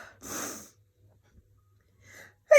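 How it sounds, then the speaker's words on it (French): A woman sneezes from allergies, a sharp close burst followed by quieter breathy sounds and a second brief snort-like sneeze at the end. "je fais des allergies, comme vous le savez, je le dis assez souvent. Et donc, je me retrouve à éternuer"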